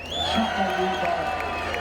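Crowd cheering and whooping at an Adelaide 500 motorsport event, a loud sustained roar of voices with shouts rising over it.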